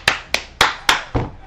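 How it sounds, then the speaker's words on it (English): Five sharp, evenly spaced claps ring out loud and close in Madden 24, a stadium crowd clapping at a home-field football game. "Start cranking in the extra crowd music."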